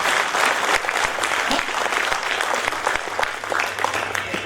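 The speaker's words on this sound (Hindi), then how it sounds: "जरा एक बार जोरदार सम्मान में जरा अपने लिए तालियां बजा सकते हैं" Audience applause at a Hindi hasya kavi sammelan, a comic poetry gathering: dense, steady clapping from a large crowd, loud and sustained throughout with no speech over it.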